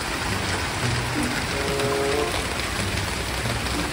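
Heavy rain falls steadily in Smoky Lake, Alberta, a thick, continuous patter and hiss close at hand, with a faint voice briefly murmuring under the downpour.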